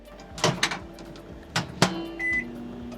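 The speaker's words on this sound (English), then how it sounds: "I'm gonna microwave a hot tea before bed" A microwave oven runs aboard a sailboat to heat tea, giving a steady hum with several clunks and bumps at the start and a beep partway through, close and fairly quiet with no talk.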